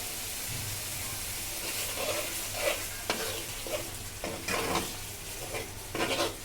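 Chicken sizzles as it is sautéed with tomato in a pan, with frequent stirring strokes and scrapes rising over the steady frying hiss.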